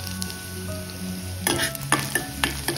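Garlic sizzling in hot oil with cumin in a pan for barley porridge, a steady crackling fry close by, followed by a few stirring scrapes and light clinks of a spoon against the pan.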